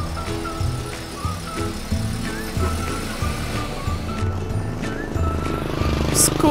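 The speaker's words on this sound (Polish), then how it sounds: "Samochód." A car engine hums along beneath steady children's background music, with the motor noise continuous and moderately loud through the whole stretch.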